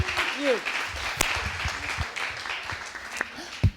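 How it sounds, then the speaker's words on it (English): Scattered audience applause at a medical symposium on designing with diversity, modest clapping mixed with talk over a microphone. "So please give one big applause"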